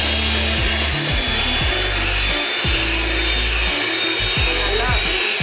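An electric mixer beats sugar, butter and oil together in a bowl, a loud, close, continuous whirring with a rhythmic scraping pulse.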